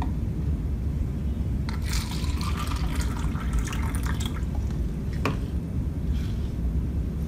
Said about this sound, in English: So tomato wash with tap water.